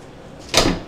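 A van's sliding door with an easy closer, on a new GL 2WD wagon fitted with a FLEX Arrange AS seat, pulls shut in one soft, muffled thud about halfway through. A brief rush trails off after it, with no talk.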